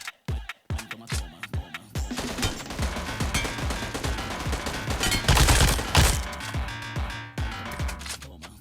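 Rapid gunfire sprays and single taps from a weapon in a first-person shooter game, sharp repeated cracks in quick bursts, loud and close, with no talking over them.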